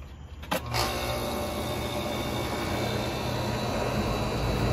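After a brief click, an air conditioner condenser unit's broad mechanical whir starts up and settles into a steady, loud hum with fan-like noise that continues throughout.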